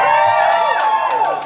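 A party crowd cheering and whooping, loud and close, in one sustained burst of excited voices with clapping mixed in.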